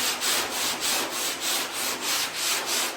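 Long 80-grit sanding block worked over body filler in even back-and-forth strokes, a rhythmic rasping swish repeating about three times per second, close and steady with no talk.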